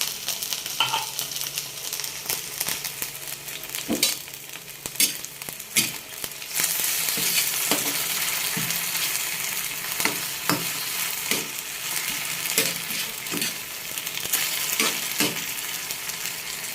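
Oil sizzles steadily as vegetables sauté in a pan with sardines, with a utensil scraping and clacking against the metal in irregular strokes.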